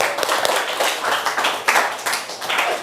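A classroom audience claps together after a group discussion presentation, a dense, close burst of hand claps lasting a few seconds.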